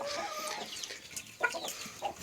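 Several chickens cluck and squawk nearby in a coop in Trabzon, in short, uneven bursts, with occasional sharper calls rising above the flock's chatter.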